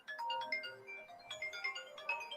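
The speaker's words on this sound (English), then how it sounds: "I have to get a phone call" An incoming call's phone ringtone, a bright melodic run of electronic tones that repeats twice, moderately loud and heard alone without talking.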